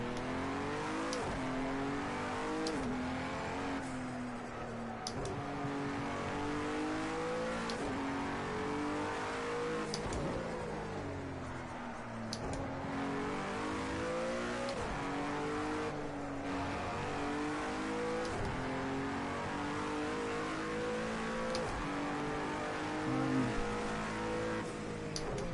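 Cadillac ATS GT3 race car engine in the Project Cars 2 racing game, repeatedly screaming up through the revs and dropping on shifts and braking, loud and continuous with occasional tire squeal and no talking.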